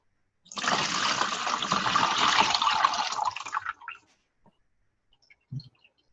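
Water is poured out in a steady splashing stream for about three seconds, then tapers to a few scattered drips and a final small splash, close and fairly loud, with no talk.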